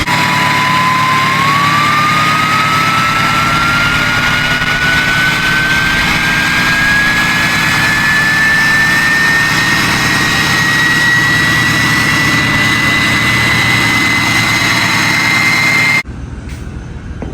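A Duramax diesel truck engine, leaking oil, drones loudly and steadily at high idle with a rising whine, continuous for about sixteen seconds before cutting to a quieter background.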